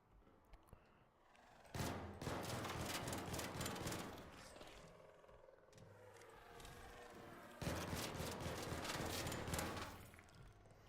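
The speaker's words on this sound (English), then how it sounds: "Love the rapid fire of this." Rapid-fire gunshots in a video game crackle in dense automatic bursts, a long stretch followed by a brief lull and another burst, loud and close with no speech.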